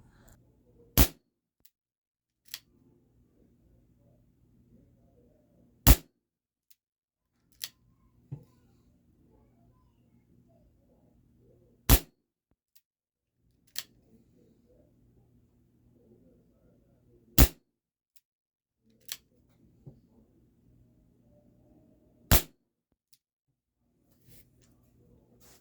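Dan Wesson 715 airgun revolver by ASG firing 7 grain RWS Hobbies lead pellets in single action: six sharp, crisp cracks spaced a few seconds apart, each with a fainter follow-up tick, with soft handling noise between in a quiet room.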